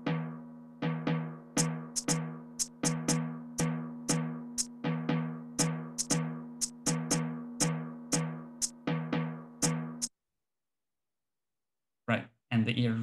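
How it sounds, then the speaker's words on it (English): A steady regular drum-like rhythm stimulus for rhythmic priming research: evenly spaced percussive hits with sharp clicks on top, looping for about ten seconds, then a brief pause and a short burst of sound. "If we listen to the regular rhythm, it sounds a bit like this."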